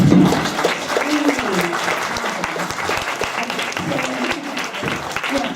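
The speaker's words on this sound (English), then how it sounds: "Let's have a good round of applause for this." Audience applause at a talk on aging and living independently, sustained crowd clapping with voices and murmurs mixed in underneath as it goes on.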